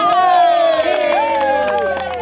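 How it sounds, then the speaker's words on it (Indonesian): A crowd at a family gathering cheers prize winners from a balloon contest, with a loud burst of shouting and whooping voices that fills the brief moment. "Tepuk tangan"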